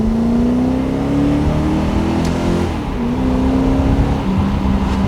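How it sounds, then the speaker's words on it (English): A 1987 Mercedes-Benz 560SL with a Carobu Stage One tuning package accelerates from inside the car, its engine note climbing steadily through the gears with a brief dip at a shift, loud and continuous with no talk. "engine is a lot more responsive"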